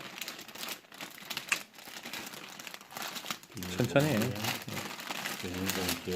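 A plastic bag crinkles as it is handled and filled, a close, irregular rustle that grows denser toward the end, with a voice speaking over it.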